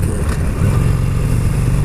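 A new motorcycle fitted with a Vance and Hines exhaust runs close by, giving a continuous loud, low engine rumble with no talking.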